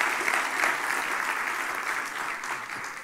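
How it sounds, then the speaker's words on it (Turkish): Steady applause from an audience at a social impact summit, a dense continuous wash of clapping that fills the whole moment without pause. "Bir alkış lütfen. Büyük alkış."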